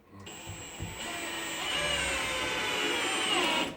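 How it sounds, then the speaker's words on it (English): A power drill whines close by as screws are driven into a board on a tiny-home build, a continuous high motor drone that starts abruptly, swells in pitch and loudness and cuts off after a few seconds. "And all we're going to do is screw that board down."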